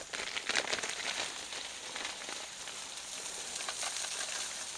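Diced ham frying in a pan with butter-flavored spray gives a soft, steady sizzle with fine crackling pops, close by and alone without speech.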